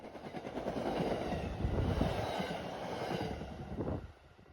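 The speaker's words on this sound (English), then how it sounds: "the MBTA ran its geometry testing train backwards." An MBTA geometry testing train running backwards rumbles past at a distance, a broad rushing roar with wind buffeting, which fades out abruptly near the end.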